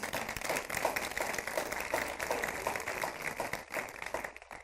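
A church congregation gives a sustained round of applause, dense overlapping clapping that holds steady for several seconds before tapering off at the end.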